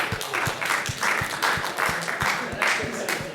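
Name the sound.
applause from workshop participants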